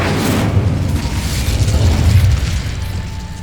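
A fire spell blast cast in Hogwarts Legacy, a loud, dense booming burst that roars continuously for a few seconds with a rumbling low end and no voices.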